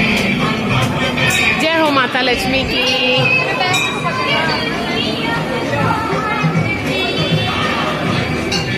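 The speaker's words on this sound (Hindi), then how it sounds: "बहुत भीड़ है यहाँ फेरी लगाने में" A crowd at a Mata Lakshmi puja gathering chatters in a constant dense babble, with a nearby voice speaking clearly above the murmur and faint clinks mixed in.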